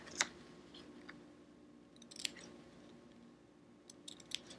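Scissors snipping fabric for a mini iron appliqué quilt block, a few faint, sharp clicks spread over a quiet, hushed room.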